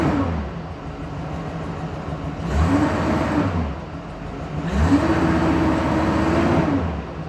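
A 2001 Chevrolet Silverado engine with a few minor misfires, running under load: a steady mid-pitched drone that swells twice as the revs climb, close and continuous, with no talking.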